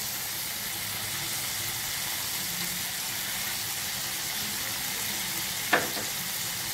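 Fresh mint leaves sautéing in a pan for pudina chutney, a steady even sizzle throughout with one brief scrape or clink near the end, no voices.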